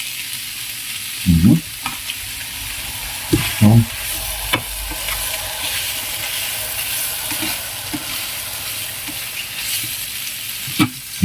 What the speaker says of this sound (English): Fry this around a little. More curry.